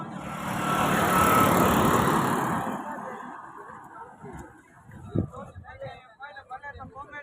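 An auto rickshaw engine roars loudly at first, then fades to a lower hum as the ride goes on near Barda hill, with faint clatter and voices toward the end.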